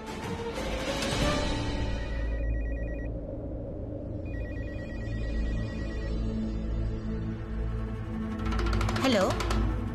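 A landline telephone rings in bursts of electronic trilling, loud and close, with people talking over and around the rings.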